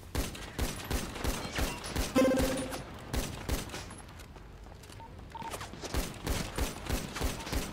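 Rapid automatic gunfire rattles in bursts through a Roblox shooter, Prodigy 2.0, with a brief ringing pickup tone in the middle and a quieter pause before the shots start again.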